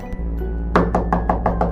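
Six firm knocks on a wooden door, evenly spaced and close by, following a faint tap.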